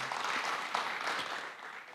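Church congregation applauding during a Sunday service, a steady wash of clapping from many hands that holds for about two seconds and then slowly fades.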